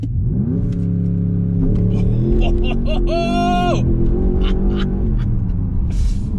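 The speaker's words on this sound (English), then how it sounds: "you can just hear that newly revised 4-litre twin-turbocharged V8 engine come to life" A 2021 Porsche Panamera Turbo S's 4-litre twin-turbo V8 cranks and catches, then settles into a deep idle with a brief revving rise; a person talks over it throughout.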